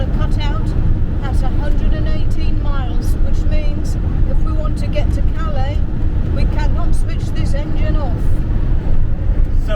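Car engine droning steadily inside a moving car on a long road drive, a loud, continuous low rumble with road noise, while people talk over it throughout.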